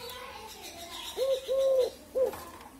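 A pet dove coos nearby in three clear, low hooting notes, the middle one longest, with a short pause before the last, over quiet background noise.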